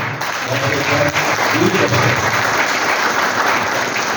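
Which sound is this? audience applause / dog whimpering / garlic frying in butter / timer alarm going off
audience applause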